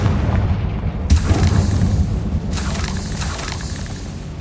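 A booming Confringo spell explosion in a wizard video game, a deep rumbling blast with a sharp burst near the one-second mark and a second surge later, loud and sustained without speech.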